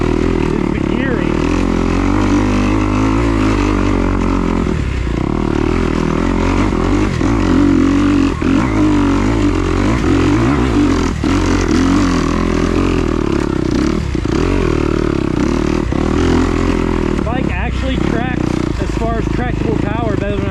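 A 2021 Kawasaki KX250XC dirt bike is ridden at the HMT Tornado event, its engine a steady, loud, close drone that rises and falls with throttle changes while clattering sounds come through, with no talking.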